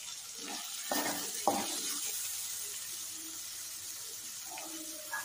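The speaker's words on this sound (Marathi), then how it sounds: "भाजून घेते मस्त सगळं।" Peas, tomatoes and potato roast in a pan for veg pulao, giving a soft steady sizzle with a few scraping stirs of a spoon near the start and the end.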